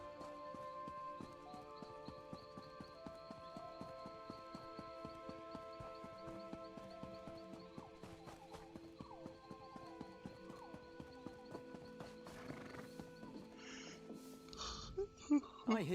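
Horses in The Elder Scrolls Online clop steadily with rhythmic hoofbeats and an occasional whinny or snort, over faint game music and a few sharper sounds near the end.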